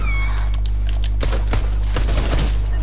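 Rapid bursts of gunfire in Fortnite shoot down an object, loud sharp cracks in quick clusters over a constant low game hum, preceded by a brief high electronic tone.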